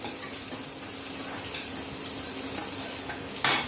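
Onions sautéing in a pan for a Tirunelveli-style mutton intestine curry give a steady, close frying hiss with light stirring scrapes and a brief louder clatter near the end, no talking.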